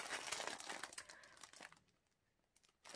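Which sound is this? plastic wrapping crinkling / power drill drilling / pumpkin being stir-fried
plastic wrapping crinkling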